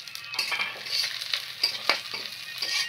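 Raw rice sizzles and is stirred in a frying pan with fish oil, close up, with a steady crackling bed and repeated scraping strokes and soft clinks throughout; no one speaks.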